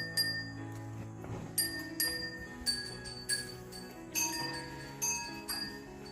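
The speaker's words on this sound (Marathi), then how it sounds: "वसूला मी घंटी बांधले, रात्री लेट येते वसू." A bell tied around a cow's neck in a Konkan village cattle shed gives bright metallic clinks at a roughly steady pace, close by and fairly quiet, with a low hum underneath.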